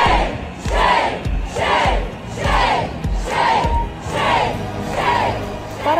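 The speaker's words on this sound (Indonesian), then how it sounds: "Para demonstran melampiaskan kemarahan atas kebijakan garis keras Presiden Amerika Serikat Donald Trump" A large protest crowd at a No Kings rally against Donald Trump's policies shouts in unison, with rhythmic bursts of chanting roughly once per second, loud and sustained.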